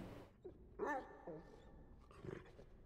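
Dog in the video game Necromunda: Hired Gun, giving a short growling bark or snarl that stands out clearly over a low ambient hum, followed by a softer second vocal burst.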